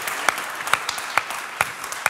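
A few sparse, separate claps sound at a panel discussion on homeopathy, a thin scattering of hands beating at a steady, unhurried pace with quiet room noise between them.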